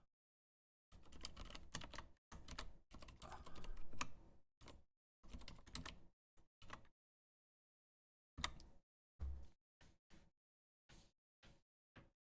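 Python code typed on a computer keyboard, close and fairly quiet, with bursts of rapid key clicks separated by pauses, then single isolated taps toward the end, no talking.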